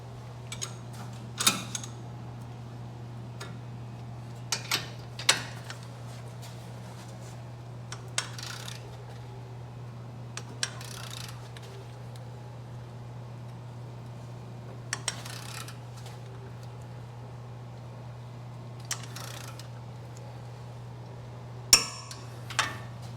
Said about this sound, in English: we're going to torque this down 100 foot-pounds